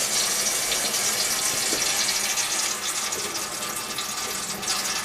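Water runs steadily through a kitchen sink drain and garbage disposal, a continuous rushing gush that stays loud and close for the whole stretch with no talking.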